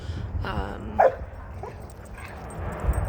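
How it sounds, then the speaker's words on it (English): Dogs outdoors give a few short yips and whimpers over steady low background rumble, with one sharper bark-like call standing out near the middle. "I'm outside with the dogs right now."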